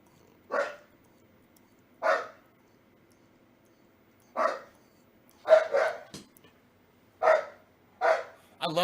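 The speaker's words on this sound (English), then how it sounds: "I love that he barks now." A dog barks in short, sharp bursts, about eight in all, separated by quiet gaps and coming in a quicker cluster toward the end, close and clear.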